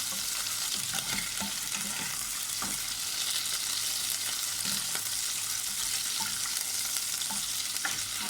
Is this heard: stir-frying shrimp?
yes